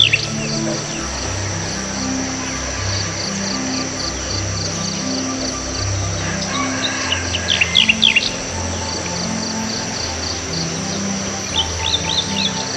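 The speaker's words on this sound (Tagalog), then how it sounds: "Ayun, mga ibon po." Birds singing at a cool riverside campsite in the forest, repeated high chirps and trills over a steady insect drone and a low rhythmic background hum, fairly close and without talk.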